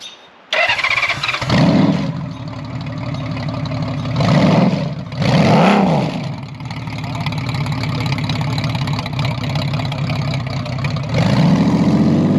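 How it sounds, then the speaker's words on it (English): A flat-six engine with a muscle-car character fires up loud and close, blips through two sharp revs, then settles into a steady, throbbing idle with a final swell of throttle; no one speaks. "because it's a flat 6, it sounds like a muscle car"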